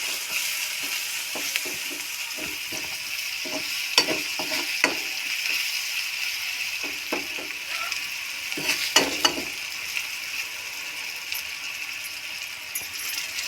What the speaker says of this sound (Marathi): हे कुटलेलं आपण टाकून दिलं आता तेलामध्ये फ्राय करून घ्यायचं आपल्याला त्याला